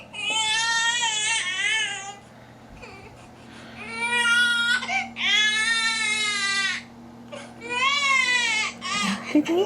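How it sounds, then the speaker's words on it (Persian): A recording of a newborn baby crying plays in repeated wailing bursts with short gaps between them, loud and close, over a faint steady hum. "ما میخوایم صدای بچه تازه به دنیا اومده رو بذاریم"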